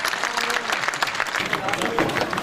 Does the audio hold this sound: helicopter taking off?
no